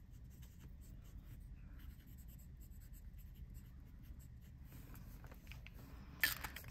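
A TWSBI ECO Heat orange fountain pen filled with Noodler's ink writes on paper, making faint, close, continuous scratching with small stroke-by-stroke variations and a sharper scratch near the end.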